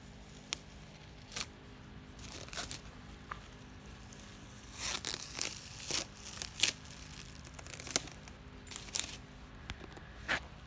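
Adhesive backing peeled away from a DIY Silverado sport valance, heard as scattered faint crinkling rips and short tearing bursts in a quiet room, with soft handling noise between them.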